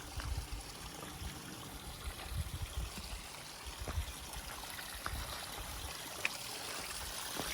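Faint, distant rushing water from a waterfall on the Appalachian Trail, a steady soft hiss with occasional small splashes and no one speaking.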